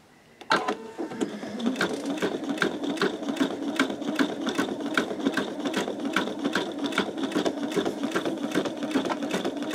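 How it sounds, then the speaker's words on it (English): Embroidery machine stitching a greeting card on peel-and-stick stabilizer, a steady rapid rhythmic needle clatter running close and continuous from just after the start, with no one speaking. "let's go ahead and continue stitching"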